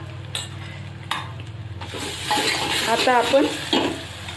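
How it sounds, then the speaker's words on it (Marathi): Hot oil tadka for Marathi amti crackles and sizzles loudly as turmeric is added, with close stirring and scraping in the pan and someone speaking briefly at the start. "खूपच छान तडका लागतो आमटीला."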